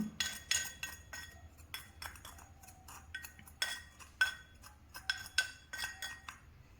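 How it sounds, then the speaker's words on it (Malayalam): Crushed camphor and other ingredients for a homemade mosquito repellent are stirred in a bowl, producing quiet, irregular clinks and scrapes of a spoon against the bowl. "ഇനി നമുക്കിതെല്ലാം കൂടി നന്നായിട്ടൊന്ന് മിക്സ് ചെയ്ത് കൊടുക്കാം"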